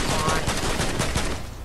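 Rapid assault rifle fire in Fortnite, a steady stream of close, loud shots in quick rhythm throughout, with a voice faintly underneath.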